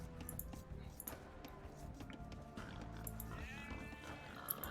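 In a strategy video game, sheep bleat in short wavering calls over dense game sounds and background noise, fairly faint in the mix.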